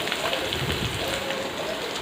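Sliced shallots sizzle in oil in a pan over a medium flame, a soft continuous crackling frying hiss that stays fairly quiet and even with no voices over it.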